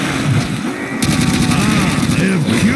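Peacekeeper gun in Call of Duty World at War firing in a rapid, steady burst of loud shots over game noise, with voices talking in the background.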